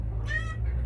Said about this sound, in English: the cats bust in